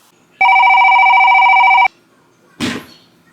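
Phone call tones: a steady electronic ringback or dial tone holds for about a second and a half, then after a pause a short muffled clunk or rustle follows, close and fairly loud.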